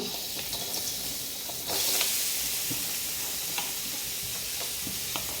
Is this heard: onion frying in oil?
yes